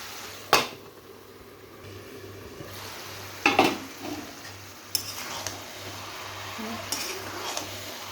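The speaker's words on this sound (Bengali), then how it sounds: "আর একটু নেড়ে দিব।" A cabbage, carrot and garden pea curry stirred in a pan: faint low background bubbling with a few distinct scraping and clinking strokes of a spoon against metal, spaced a second or more apart.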